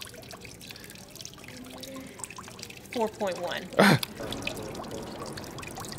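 Water runs and trickles steadily from a public water fountain in a city, a soft continuous flow in the background while a person talks over it.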